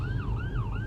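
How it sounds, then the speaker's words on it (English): An emergency siren wails up and down steadily, heard from inside a car over low road and engine rumble. "there's always going to be a siren or something going on"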